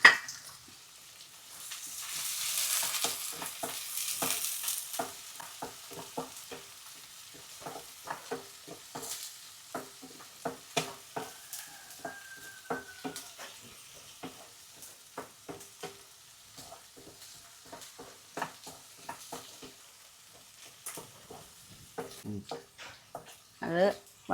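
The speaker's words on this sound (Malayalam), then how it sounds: "അത് വഴറ്റിക്കൊണ്ടിരിക്കുകയാണ്." Crushed garlic and shallots are sautéed in a pan for Kerala tomato rasam: a soft sizzle under a steady run of spatula taps and scrapes, quiet and close, with occasional speech.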